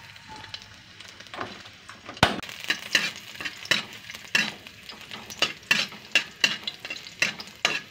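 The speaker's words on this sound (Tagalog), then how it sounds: "Lagyan na natin ang ating bawang." Garlic sautéing in a hot pan for adobong kangkong, a loud, close sizzle broken by rhythmic scraping stirs of a spatula against the pan, with no voices.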